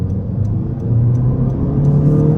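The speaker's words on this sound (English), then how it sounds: "Alright guys, off the line, this is sport mode." A 2024 Honda Civic Sport Hatchback in sport mode pulls away from a standstill, its engine note climbing steadily in pitch as it builds revs, heard loud and close from inside the cabin with no talk.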